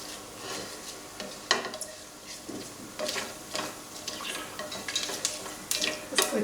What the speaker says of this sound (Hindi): इसको मैं हल्का सा सौते करती हूँ